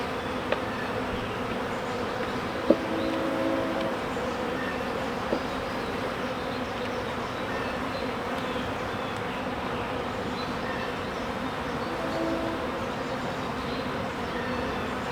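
Swarming honey bees buzz in a steady, dense drone that stays close and continuous throughout, with a couple of faint clicks and no talking.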